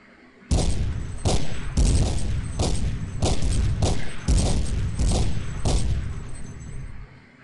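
Enemy gunfire in the video game Dark Flow: about nine heavy, booming bursts in an uneven rhythm, loud and close, each decaying quickly, with no talking over them.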